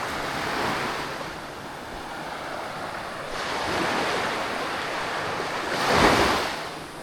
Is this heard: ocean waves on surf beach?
yes